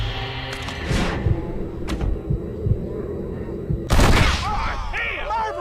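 Gunshots crack in the Western video game Red Dead Redemption, several sharp reports spread over a few seconds with a louder blast near the end, mixed with voices speaking.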